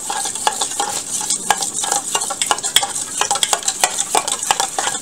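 Sesame salad dressing for a broccoli salad is stirred briskly in a bowl, giving a continuous close, scratchy swishing with quick irregular clinks throughout.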